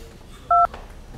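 A single short telephone keypad tone sounds once, clear and close, over a quiet background hiss.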